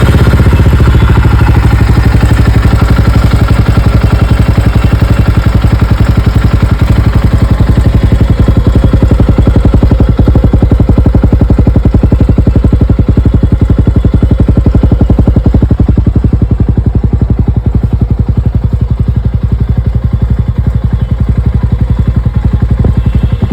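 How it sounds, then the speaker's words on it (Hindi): A 2024 Jawa 42 FJ motorcycle's exhaust, loud and close, thumps out a steady rapid idle with a gritty mechanical clatter, holding constant for over twenty seconds with no one speaking. "अभी मैं आपको सुनाने वाला हूँ इस बाइक की एग्जॉस्ट नोट।"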